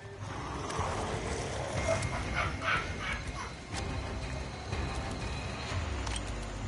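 A dog whimpers and yelps amid the steady noisy backdrop of the zombie-survival video game Days Gone, its cries recurring over about seven seconds at moderate loudness.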